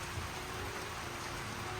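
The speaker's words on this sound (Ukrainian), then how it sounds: "Зараз трошечки вщухне дощик." Light rain falls steadily outdoors at a snail farm in Kyiv Oblast, a constant even patter and hiss with no voices.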